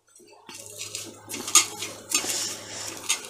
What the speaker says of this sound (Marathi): तर आम्ही असं खरडून घेणार आहे